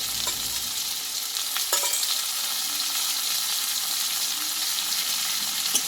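Ground onion and tomato paste sautéing in a pan for a pumpkin-stem dish, a continuous even sizzle close by with a couple of faint stirring scrapes and no talk.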